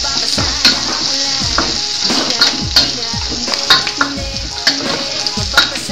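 Onions sizzling and frying in a hot pan for Filipino miswa soup, a steady crackling hiss with sharp stirring clatters of a utensil against the pan at irregular intervals, close and fairly loud.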